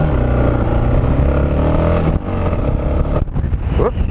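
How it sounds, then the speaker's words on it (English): Close inside a moving car, the engine drones steadily with a harmonic hum, then falters and chugs unevenly as the pitch shifts and rattles cut in near the end. "engine was getting a bit chuggy then."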